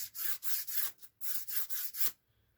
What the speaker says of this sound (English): I'm sanding the polystyrene with my finger